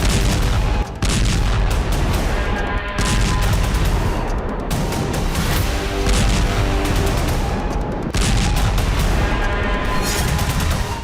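Heavy bombardment and gunfire in Lebanon: a continuous loud barrage of dense shots and booming blasts with rapid bursts, steady throughout with no talking.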